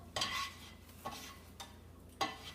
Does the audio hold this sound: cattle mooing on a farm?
no